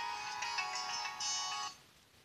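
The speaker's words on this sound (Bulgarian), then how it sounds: "телефон звъни." A telephone ringtone plays as a steady electronic trill at moderate distance, holding for over a second and then cutting off, leaving only quiet room noise and no speech.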